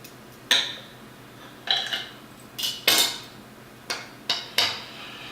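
A knife carves a rested prime rib roast, giving about seven sharp, separate knocks and scrapes against the board at an uneven pace, close and clear, with no talking.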